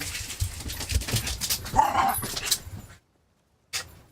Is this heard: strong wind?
no